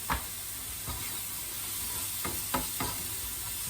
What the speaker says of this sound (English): hear that sizzling away there.